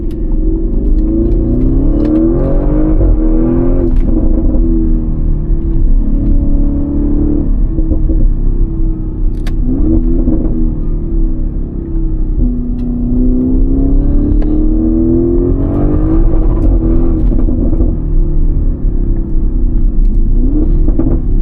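A 2017 Audi RS6 C7 wagon fitted with an Audi Sport titanium exhaust drives continuously from the cabin, its deep engine rumble rising and falling through repeated revving pulls and gear changes, loud and steady, with no voices.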